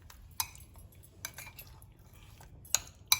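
A spoon clinks and scrapes against a bowl while mixing chicken with garam masala for butter chicken, with a few sharp, close taps spread through the stirring and no talking.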